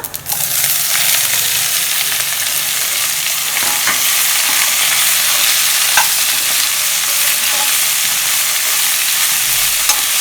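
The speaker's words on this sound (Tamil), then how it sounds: "கோவக்காய் போட்டுக்கலாம்ப்பா." Ivy gourd sizzles steadily in a hot pan with mustard seeds, urad dal and garlic, stirred with occasional scraping clinks of the spoon against the pan, loud and continuous without talk.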